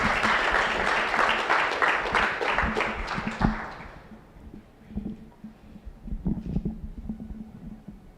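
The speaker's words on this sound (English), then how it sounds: "let's give a round of applause for the children present" An audience claps loudly for school children at the launch event of a Greater Guyana Initiative project. The dense applause lasts about four seconds, then fades, and quieter, scattered sounds follow.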